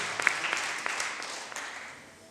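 An audience in a church applauds during a wedding ceremony, a wash of clapping with a few sharp near claps early that gradually thins and fades toward the end.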